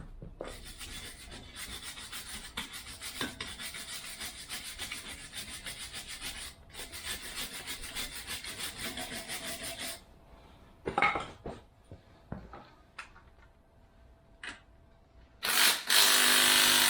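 Threads on a Land Rover Series IIa front suspension bolt being cleaned up, a steady rasping, rubbing scrape of tool on metal that runs continuously, then breaks into short scratchy bursts and ends in a loud burst of noise.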